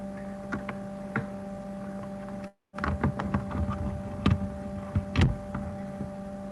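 Background noise on a participant's end of a live online call: a steady electrical hum runs beneath scattered ticks, clicks and knocks, with a brief total dropout partway through and no voices.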